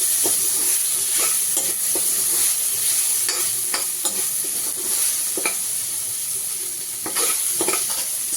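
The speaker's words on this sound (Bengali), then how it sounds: "এটা ভালো করে নাড়িয়ে নাড়িয়ে ভালো করে একটু লাল লাল মতো করে ভেজে নেব" Chicken pieces with tomato sauce fry in a pan, giving a steady, loud sizzle broken by repeated scraping strokes of a spoon stirring the pieces.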